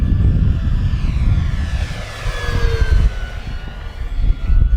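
An FMS 1450mm P-51 Mustang Red Tail RC warbird flies steep turns overhead, its electric motor whine sweeping and shifting in pitch as it banks, with steady wind rumble underneath.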